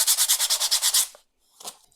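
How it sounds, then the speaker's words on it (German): Coarse sandpaper rubs over wooden edges in about ten quick, even back-and-forth strokes lasting a second, then a pause and one brief, softer scrape. "ich gehe da jetzt erstmal über die Kanten mit einem groben Schleifpapier, ganz leicht nur"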